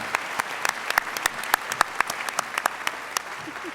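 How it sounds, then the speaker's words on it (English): Sparse applause from a small audience at a teachers' salute event, individual claps standing out sharply as a loose, irregular patter over a quiet hall. "Give yourselves a round of applause."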